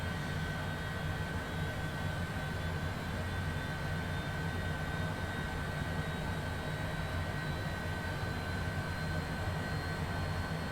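A business jet's engine in Microsoft Flight Simulator 2020 settles after ignition into a steady, even whine and rumble with tonal hums, unchanging and continuous, with no voices.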